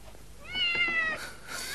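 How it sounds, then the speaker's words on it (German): A cat gives a single clear meow from outdoors, short and fairly close, with no talking around it. "die Katze wollte ich reinlassen."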